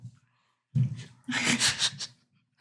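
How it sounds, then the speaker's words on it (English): A person yawns close by, a faint breath in followed by a long, airy, drawn-out exhale. "We're gonna put a yawn counter."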